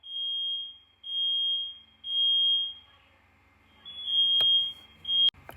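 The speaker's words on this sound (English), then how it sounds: "Why is the fire alarm going off?" A household smoke alarm sounding with no fire, loud shrill beeps repeated in regular pulses of about half a second, pausing, then resuming with another beep, ending with a sharp clatter.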